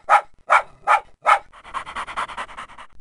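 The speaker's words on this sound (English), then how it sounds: "If you hear barking, then it must be him." A cartoon dog in the Sesame Street Baby & Me PC game gives four sharp, evenly spaced barks, followed by a quick run of rapid panting breaths, close and clear with no talking.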